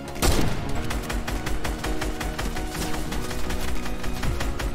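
Rapid gunfire rattles through a video game, a dense burst of shots repeating quickly after a heavy opening blast, loud and continuous.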